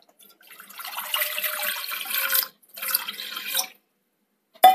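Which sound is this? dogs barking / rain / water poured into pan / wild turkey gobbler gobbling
water poured into pan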